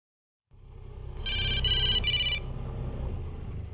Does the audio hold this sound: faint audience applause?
no